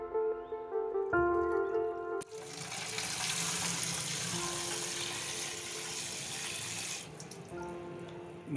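Running water pours steadily from a tap, with splashing and handling noises as cut aloe vera pieces are rinsed under the flow; a brief tonal sound precedes it.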